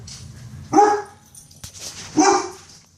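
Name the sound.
dog barking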